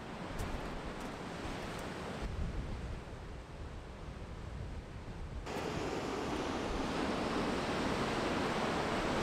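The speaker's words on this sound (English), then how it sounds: "it's a bit rough today and it's a bit windy" Steady rough surf roars with wind buffeting the microphone on the Cornwall coast in winter, a constant loud wash of breaking waves that swells slightly toward the end.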